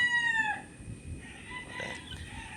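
A White Kelso gamecock rooster crows once at the start, a clear, fairly close call that trails off, followed by faint background noise.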